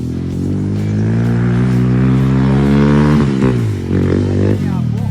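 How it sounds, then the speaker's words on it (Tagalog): A motorcycle engine revs hard and loud close by, climbing in pitch, dipping and rising again in a continuous roar, with no talk over it. "Tagaog ng motor."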